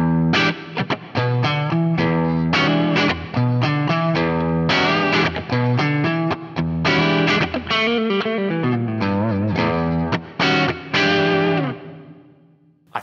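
Electric guitar played through a Boss Katana-Head MkII amp with a hall-style reverb effect, loud sustained chords and picked notes ringing out with long tails, fading away near the end, no talking.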